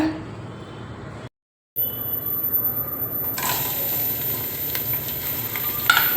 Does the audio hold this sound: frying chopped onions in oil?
yes